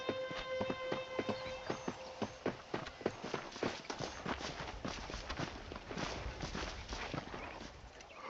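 Rhythmic clip-clop of horse hooves at a steady riding pace in the Red Dead Redemption video game, regular beats over a western game soundtrack with sustained tonal notes early on.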